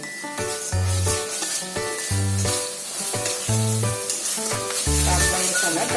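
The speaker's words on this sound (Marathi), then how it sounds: "यात थोडी कोथिंबीर बारीक चिरलेली, ही पण थोडी परतवून घ्यायची।" Masala with turmeric and finely chopped coriander sizzles in a pan, steady close frying hiss broken by repeated scraping stirs of a spoon in a regular rhythm, with no talking.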